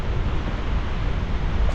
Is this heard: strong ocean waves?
yes